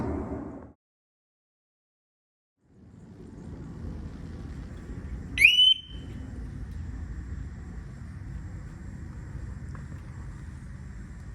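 A single short electronic beep chirps once from the security alarm of a parked Harley-Davidson Forty-Eight motorcycle amid a steady engine-like rumble, after a brief stretch of silence.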